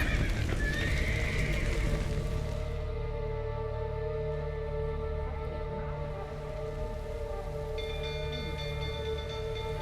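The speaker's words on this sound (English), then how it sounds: "The horses!" A horse whinnies and neighs in The Witcher 3, loud and close against a steady background of rain-like noise and game ambience, with no voices.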